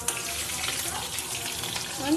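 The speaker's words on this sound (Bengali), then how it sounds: "পমপ্লিট মাছটা একটু এপিড ওপিড করে উলিয়ে নেবো" Small pomfret fish fry in a pan with a steady, close sizzle that holds at an even level for about two seconds, with no talking.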